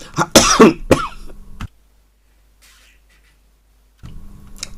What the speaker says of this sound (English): my apologies, I coughed there